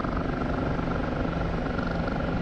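A Kiowa scout helicopter in the DCS flight simulator flies with a steady, dense rotor and engine drone that holds at an even level throughout, with no other sounds or talk.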